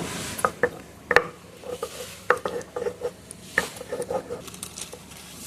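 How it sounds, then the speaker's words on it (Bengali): Fish liver being ground on a flat stone slab (shil), a series of sharp scraping knocks and gritty rubbing strokes in an irregular rhythm, close and moderately quiet, with no talking. "আমরা শিলে চলে এসেছি সরাসরি এবং আমরা কলিজাটাকে বেটে নিচ্ছি"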